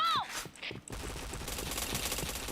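Rapid video game gunfire, a burst of close, loud shots with clicky weapon sounds and a rising whoosh at the start, followed by sustained dense firing crackling throughout.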